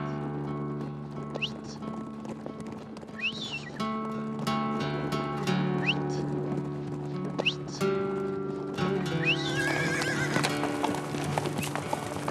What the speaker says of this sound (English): they let the horses loose at sunset so they can spend the nights roaming freely in the mountains